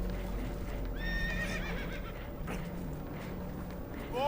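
Spooked horses in the Red Dead Redemption 2 video game neigh in shrill, quavering whinnies, one near the middle and another at the end, over a steady low rumble of water and hooves.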